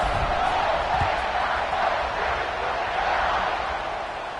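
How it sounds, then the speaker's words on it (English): Football stadium crowd buzzing after a score, a loud, sustained roar of voices and cheers that stays dense and slowly eases toward the end. "this crowd is buzzing after that last score"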